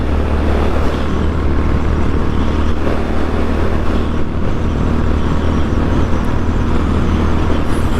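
A Honda GB 350 S motorcycle engine labors in fourth gear up a slight incline, a steady low drone with constant wind rush, loud and close throughout.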